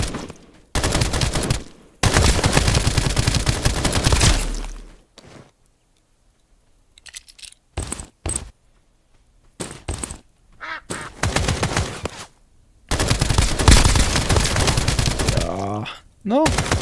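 Bursts of gunfire in the duck-themed extraction shooter Escape from Duckov, loud automatic volleys broken by quiet gaps with scattered shots and duck quacks, while a player talks in French.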